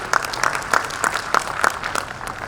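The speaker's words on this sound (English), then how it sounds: "Can we have a round of applause again for the video," Conference audience at a corporate volunteering conclave applauding: a thin patter of claps with a few distinct sharp ones in a loose rhythm, moderately close, a modest crowd rather than a roar.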